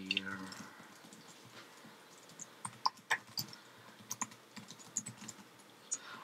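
Keystrokes of code being typed on a computer keyboard while writing a Swift if/else statement, coming in irregular bursts of sharp clicks over a low background hum, close and fairly quiet.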